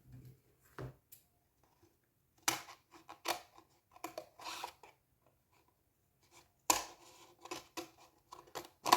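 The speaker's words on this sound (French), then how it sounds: "Je vais prendre mon ciseau et je vais me faire des bandes à peu près égales" Scissors snip strips of a cup held with tape, giving sparse, quiet cuts and rustling bursts separated by near silence.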